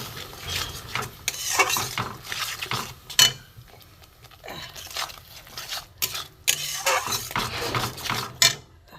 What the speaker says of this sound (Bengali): দিয়ে আমি ভালো করে একটু কষিয়ে নিই মশলাটা